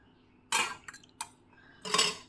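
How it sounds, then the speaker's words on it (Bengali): Metal utensils clink against dishes while dal is served into them at home: three sharp clattering bursts with short ticks between, close and fairly loud, no voices. "এরপরে আমি একটু ডালটা বেড়ে নিচ্ছি"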